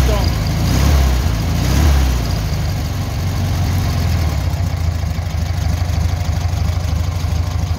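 A car engine fitted with a Cox carburettor running steadily on light throttle, a continuous low idle-like hum with a slight swell near the start, with no talk over it.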